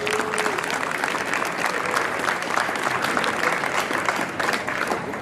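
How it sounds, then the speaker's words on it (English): An audience at a hall of fame induction ceremony breaks into loud, sustained applause, a dense steady clatter of many hands clapping that fills the room for several seconds without letting up. "please give everybody a huge round of applause"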